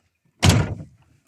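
A door swung shut with one solid, close slam and a short rumbling tail, heard alone with no talk.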